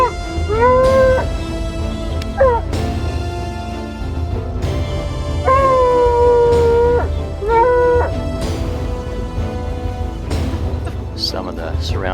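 Hunting dogs on a cougar trail near Zion, Utah, give long rising and falling howls, loud and near, in several drawn-out bursts with other yelps and a low engine-like rumble underneath.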